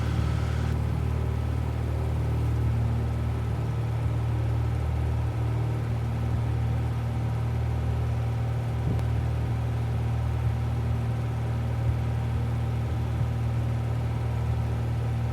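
Cessna 172 single-engine propeller aircraft climbing out after takeoff, a steady, loud droning engine and prop rumble heard from inside the cabin, sustained and unbroken.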